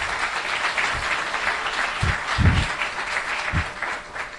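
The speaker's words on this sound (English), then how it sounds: "And also a big applause for the local committee that are projecting this" Audience at an opening ceremony applauding, with a steady wash of many hands clapping throughout, moderately loud and heard from within the hall.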